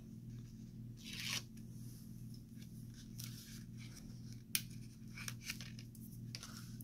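Tape being peeled from a paper envelope box during a papercraft project, heard as quiet soft tearing and rustling strokes with a few small clicks, close by, with no talking.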